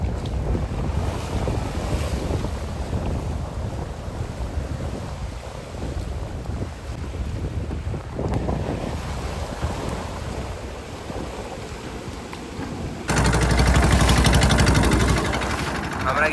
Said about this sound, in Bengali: হেবি সুন্দর হাওয়া আসছে বাইরে দিয়ে।